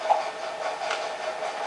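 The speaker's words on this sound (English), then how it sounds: "And there's trains and everything in this level." Train in a Sly Cooper Thieves in Time level, a steady rumbling, hissing rail noise with a faint clatter, continuous and moderately close for under two seconds, no voices.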